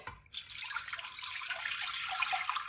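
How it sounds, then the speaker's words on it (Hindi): Tap water pours steadily into a bowl of bitter gourds for washing in a home kitchen, a continuous close splashing rush that starts abruptly and carries on alone without talk. "इसके अंदर पानी ऐड कर देंगे"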